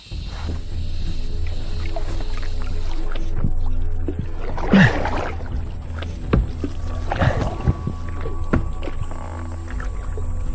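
Paddling a canoe upstream along a forest stream in the Amazon, with soft water swishes and a couple of louder splashing paddle strokes over a steady low motor-like hum, no speech.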